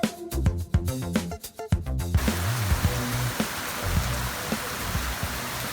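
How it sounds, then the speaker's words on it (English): After a few seconds of music, heavy mountain rain takes over as a dense, steady hiss, with low musical notes lingering beneath. "Lots of big rain up here in the mountains"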